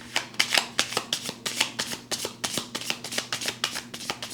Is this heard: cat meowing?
no